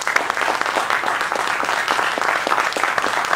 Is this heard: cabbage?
no